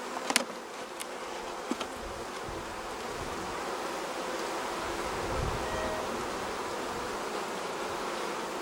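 Honeybees hum steadily around an open hive in a dense, close buzzing drone, with a few faint clicks and taps near the start.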